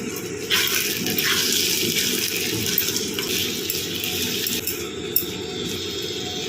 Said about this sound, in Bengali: চিকেনগুলো ভেজে নিয়েছি তার তলায় যে ম্যারিনেট করা দই কালি মির্চ পেঁয়াজ আদা রসুন যেটা দিয়ে ম্যারিনেট করা ছিল সেই গ্রেভিটাই থালার মধ্যে যেটুক ছিল সেটুক দিয়ে দিলাম